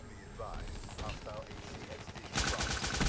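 Rapid automatic gunfire from the video game Call of Duty: Black Ops bursts out loudly near the end, after quieter game sounds with a voice talking over them.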